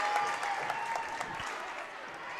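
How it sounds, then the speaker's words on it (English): A crowd at an Ursuline versus Padua high-school volleyball match claps steadily, a dense, even patter of many hands filling the gym throughout. "Padua was clapping."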